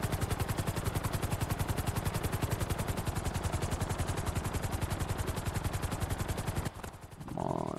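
A helicopter in the video game GTA beats out a fast, steady rotor chop close by, loud and continuous for several seconds before cutting off abruptly into a brief quieter rumble.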